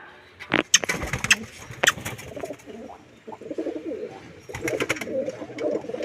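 Pigeons coo repeatedly in low, throaty bursts, fairly close, with a few sharper chirps and flutters mixed in.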